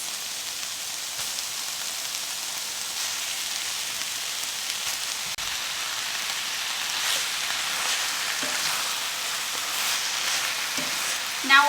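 Bite-sized steak pieces searing in a hot pan for keto creamy steak bites, giving off a steady, fairly quiet sizzle and crackle with a few sharper spits and pops near the end.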